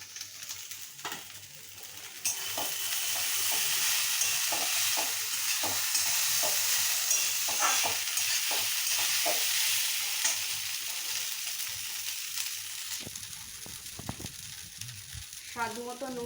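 Washed poha (flattened rice) stir-fried in a pan for poha pulao, a steady loud sizzle starting after a quiet opening, with repeated scraping stir strokes and a brief clatter near the end; no talking.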